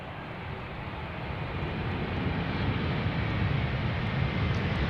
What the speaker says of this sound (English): KLM flight 755 arriving from Guayaquil